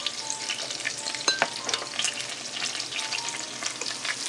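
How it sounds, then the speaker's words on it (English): Lobster cooks in a pan for a Haitian-style dish, giving a bright continuous sizzle with a few sharp utensil clinks near the start and steady crackling throughout. "And now the lobster is cooking"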